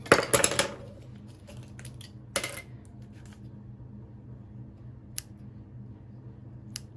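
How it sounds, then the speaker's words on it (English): Scissors trimming ribbon at close range: a brief burst of crisp snips and rustling at the start, a second short cut a couple of seconds later, then faint isolated clicks in a quiet room. "Now this is when you will want to just trim up your ribbon."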